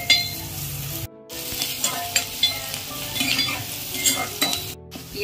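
Onions sizzle and crackle in a hot pan for paya salan as they are stirred toward golden brown, with a steady close frying hiss broken by scraping stirs and two short pauses.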